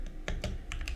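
Quick bursts of keystrokes on a computer keyboard while entering Lua code in Neovim, several close, crisp clicks in uneven rhythm with no voice.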